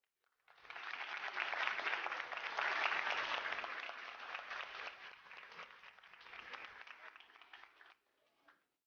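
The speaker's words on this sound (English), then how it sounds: "if we could all just say a quick thank you with a round of applause for his service" An audience at a high school hall of fame ceremony applauds with a dense, steady burst of clapping that swells, holds and then tapers off after several seconds.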